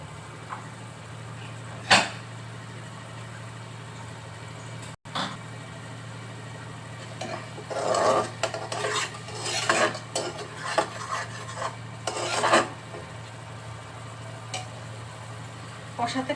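Spices with turmeric sautéed in a pan for a fig and shrimp curry: spoon stirring and scraping against the pan, with a brief clatter early on, then a denser run of scrapes and knocks.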